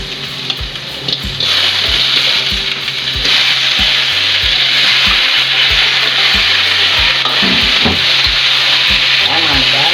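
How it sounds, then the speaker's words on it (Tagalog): Shrimp go into a pan of sautéed garlic, onion and ginger, flaring into a loud, close, constant sizzle that swells after a quieter start, with repeated rhythmic knocks of a utensil stirring against the pan. "Pagkagisa natin ng bawang, sibuyas at luya, mga madam, ilagay na natin yung hipon"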